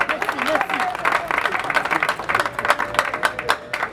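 A crowd at a Congolese gathering applauds with dense, sustained clapping and cheering throughout, fairly loud and close, with a voice calling out over the noise.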